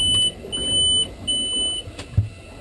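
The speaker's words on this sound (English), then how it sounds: "we had fuel pumps, two beeps" The engine monitor on a boat with a Volvo Penta V8-270-C-A OceanX engine gives two thin, high electronic beeps during a malfunction check, clear and close against a quiet hum, with a soft thump near the end.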